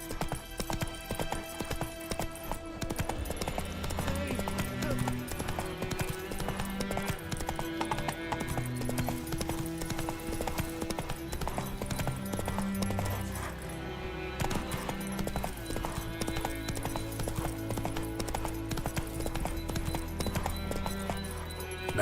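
Roach, a horse in The Witcher 3: Wild Hunt, trots with steady clip-clop hoofbeats under a dense musical score, the hooves running continuously throughout with a brief snort or whinny.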